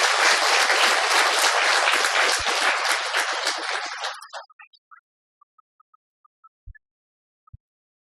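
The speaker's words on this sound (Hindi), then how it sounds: "हाँ, पहले एक बार जोर से ताली बजा सकते हैं।" Loud audience applause at a spiritual gathering in a hall, a dense burst of clapping lasting about four seconds before tapering off into a few scattered final claps and near silence.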